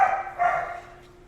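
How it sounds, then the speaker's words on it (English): A dog barks twice in quick succession in a house, loud and close, the second bark slightly longer, then quiet. "They have a bit of a louder bark."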